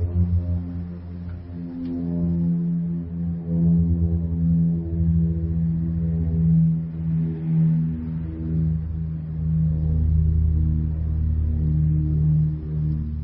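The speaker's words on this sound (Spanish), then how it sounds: "Gracias a Álvaro Arias, este es el sonido de esa avioneta u avión, tosco y antiguo y de la Unión Soviética" Old, crude Soviet propeller plane passing over the city, heard as a steady low droning hum with throbbing harmonics, sustained and distant-sounding, slowly swelling and easing with no voices.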